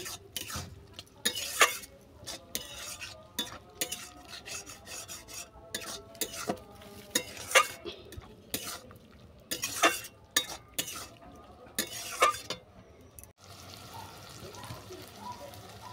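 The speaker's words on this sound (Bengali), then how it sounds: "সর্ষে বাটাটা ভালো করে মিশিয়ে নেব।" Mustard paste being stirred into water spinach stems in a pan as the liquid nearly cooks off for a vegetarian chorchori, with repeated rasping spatula scrapes over a low sizzle, close up, with no speech.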